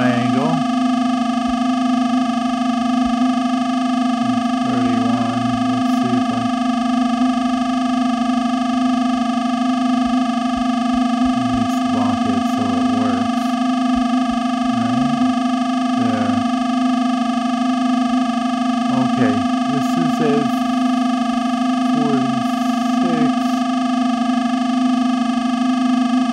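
A synthesizer tone built from triangle and modified sine waveforms, holding a steady buzzing, harmonically rich drone throughout while shifting blips and short tonal notes flicker over it.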